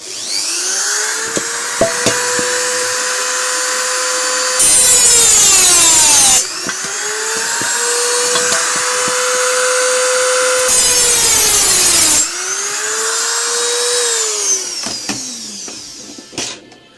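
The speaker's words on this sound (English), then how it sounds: "Simple nick with your Dremel, as I say." A Dremel rotary tool cuts a nick into metal, its high whine rising and falling through several sustained passes with bursts of harsh grinding, loud and close with no talk.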